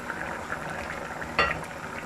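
Mochai kottai karuvadu kulambu boils with a steady close bubbling, and a brief splash marks the dried fish being dropped into the pot. No one speaks.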